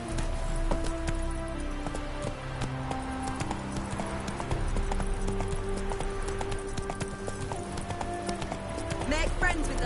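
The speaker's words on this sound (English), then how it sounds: "Run, Roach" A horse gallops in The Witcher 3 video game, its steady, rapid clip-clop of hooves running throughout over layered game music and ambience, with voices briefly present.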